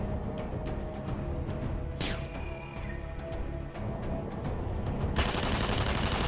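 Gunfire in the video game Tribes: Ascend, aimed at a far-off enemy: dense rattling shots run steadily through a busy battle mix, with a sharp sweeping blast near the middle and a brighter hissing burst toward the end.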